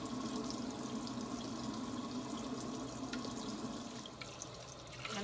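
Tap water runs steadily into a sink during washing, a continuous close splashing rush with faint clinks, no voices.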